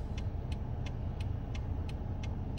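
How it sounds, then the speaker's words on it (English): Inside a moving car, a steady low road and engine rumble fills the cabin while a regular ticking, likely the turn signal, repeats about every third of a second. "I'm in the car, as you can clearly tell."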